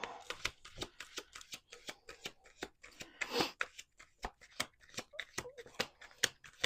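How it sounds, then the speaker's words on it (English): A deck of playing cards being shuffled by hand in a cold setting, giving a run of crisp riffling snaps and flicks in irregular bursts, one denser flurry midway, close and fairly quiet. "1 more shuffle"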